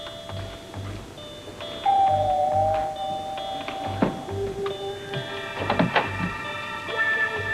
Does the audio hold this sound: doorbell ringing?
yes